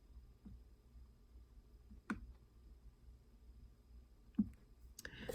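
Chromebook trackpad pressed down with one finger until it clicks, giving a few faint, sharp clicks spaced a couple of seconds apart over a quiet background.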